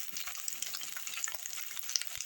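Potato pancakes frying over low heat in a covered pan, a steady soft sizzle with crackles and occasional sharp pops, close and alone without talking.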